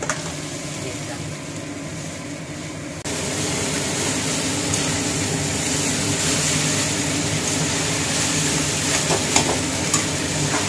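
Boiled Maggi noodles are stirred in a frying pan, giving a continuous sizzle and scraping against a steady background hum that grows louder after a few seconds.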